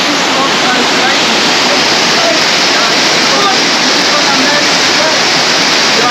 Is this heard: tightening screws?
no